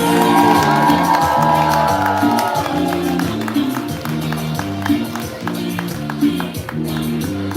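A crowd at a live poetry show cheers, whoops and claps loudly to welcome a poet to the stage. The noise is dense and sustained, with steady rhythmic clapping running underneath.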